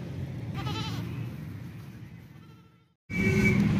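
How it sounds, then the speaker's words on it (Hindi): A goat for sale at a livestock market bleats twice, close and loud, with a wavering cry followed by a short pause and then a second bleat. "ये बकरा चेक कर लें भाई, बहुत ही प्यारा खूबसूरत बकरा है"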